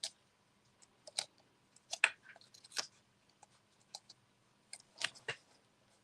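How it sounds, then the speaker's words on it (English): A pet at a desk chews on something, giving quiet, irregular crunches and clicks scattered across a nearly silent background. "What are you chewing on, ma'am?"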